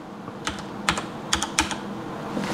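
A computer keyboard is typed on to enter text into a search box, with several sharp key clicks in small irregular bursts, close by against a quiet background.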